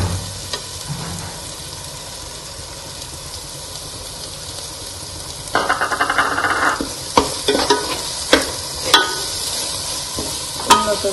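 A stuffed brinjal curry fries in a pan as 2 tablespoons of chili powder are added and stirred in: a steady background hiss, then louder sizzling and repeated scraping strokes of the spoon, close by, with no talking.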